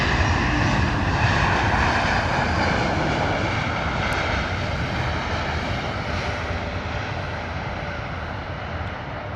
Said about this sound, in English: steady on there with the Airbus A220, Air France